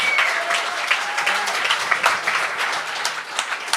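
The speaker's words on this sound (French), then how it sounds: "On applaudit Francis Prévost, tout le monde!" A comedy show audience applauds stand-up comedian Francis Prévost with dense, steady clapping that stays fairly loud throughout. Scattered individual claps stand out within the crowd.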